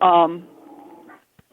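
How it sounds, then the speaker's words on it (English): Dogs bark and whimper at a distance for a brief moment, partly under a voice that speaks over the start, with short faint yips near the end. "sorry about the dogs in the background"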